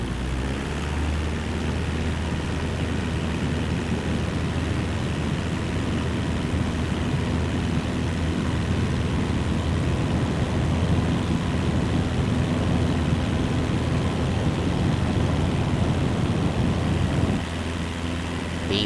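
A light aircraft's engine roars steadily as the throttle comes up for takeoff in Microsoft Flight Simulator 2024, a loud, continuous drone that holds for most of the run before easing near the end.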